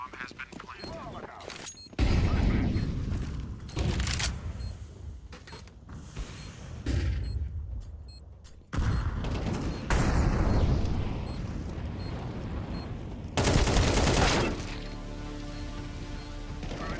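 Gunfire from a Counter-Strike style shooter match with a bomb planted: bursts of shots separated by short gaps, loud and close, mixed with other game noise.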